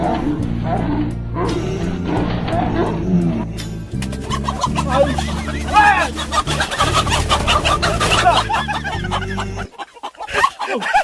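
Chickens cluck and squawk in agitated bursts while being chased and caught, amid loud, busy scuffling, with people shouting and talking over the commotion throughout.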